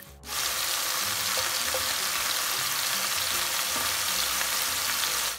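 Food frying in olive oil in a pan for a spaghetti carbonara, a steady broadband sizzle that stays loud and even throughout, with a few faint clicks and stirring noises underneath and no talking.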